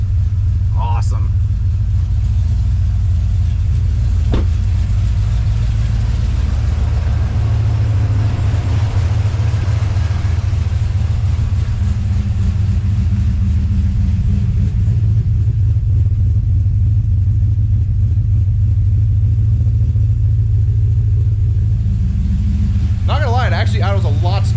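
A 6.2 V8 swapped into a 2007-2013 Silverado idles with a deep, steady, smooth rumble, close and loud throughout, with someone talking briefly over it.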